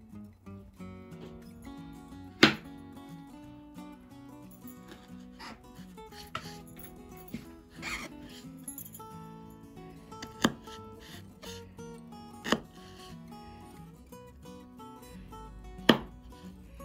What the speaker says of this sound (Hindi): अब मैं टमाटो चॉप कर लूंगी।